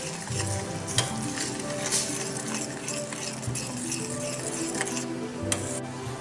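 Momo sauce being stirred together with chilli flakes in a hot pan, giving a steady close sizzle with occasional scraping knocks of the spoon throughout.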